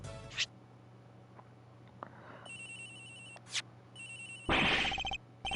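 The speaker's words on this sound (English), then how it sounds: "Agent Hicks' phone is ringing from somewhere, sir." A mobile phone rings inside the Ace Attorney Investigations video game, a repeating electronic ringtone in several bursts over a low game background hum, fairly clear with no talking.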